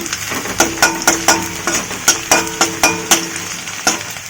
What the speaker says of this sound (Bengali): একটু পেঁয়াজের বেরেস্তা করে নিচ্ছি